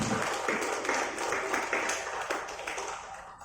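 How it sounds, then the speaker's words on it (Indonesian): Audience applause at a motivational training session, a dense steady patter of many hands clapping at moderate level throughout, fading slightly toward the end. "Dan tepuk tangan yang berikan untuk bapak ibu semua."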